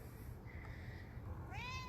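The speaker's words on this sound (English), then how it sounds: "it's a kitty" A cat meows once near the end, a short rising then falling cry with clear harmonics, over a steady low background hum; no talking.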